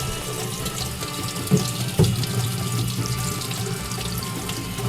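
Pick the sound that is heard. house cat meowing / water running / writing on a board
water running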